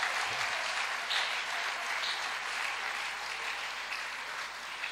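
A church congregation at an evangelical service applauds, a dense, steady wash of clapping that continues for several seconds without voices standing out.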